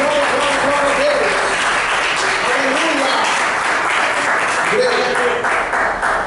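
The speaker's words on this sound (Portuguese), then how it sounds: "dá uma salva de palmas para Jesus, bem forte, bem forte" A church congregation claps together in sustained, steady applause throughout, loud and continuous, with voices cheering and talking underneath.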